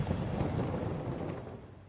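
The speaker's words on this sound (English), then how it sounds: "The sheer power of a cosmic blast is terrifying" A huge cosmic blast rendered as a sustained, dense roaring rumble, loud and broad, rolling on for a couple of seconds before easing slightly, with no voices.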